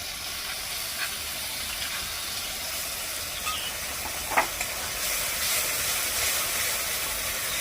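Whipped sour curd goes into a hot pan for a curry with pabda fish, eggplant and fenugreek greens, producing a steady steamy hiss, a single soft knock midway, and a brighter, stronger sizzle toward the end.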